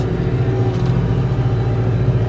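New Holland tractor engine pulling a cultivator (kazayağı) through a barley and onion field near Ankara, in first gear at about 1800–1900 rpm, giving a steady, loud, close diesel rumble with no talk.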